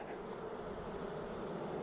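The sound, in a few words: honey bees buzzing at hive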